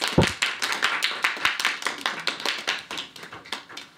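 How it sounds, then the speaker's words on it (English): A small group of audition participants gives themselves a round of applause, uneven close-up claps with distinct individual hand strikes, lively at first and thinning slightly toward the end, no talking. "Round of applause to you all."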